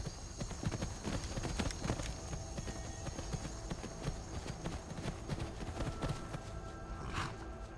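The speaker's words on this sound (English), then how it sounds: "on the back of a horse, traveling through the world." Steady clip-clop of horse hooves while riding in the video game Skyrim, a continuous trotting rhythm under ambient game sound with a faint whinny-like cry near the end.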